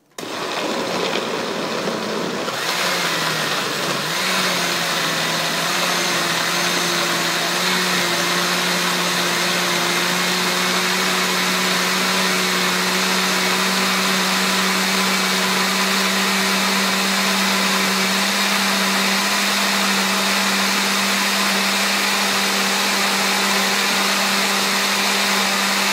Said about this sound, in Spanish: Le vamos a poner poquito para moler y el resto lo echamos ahí.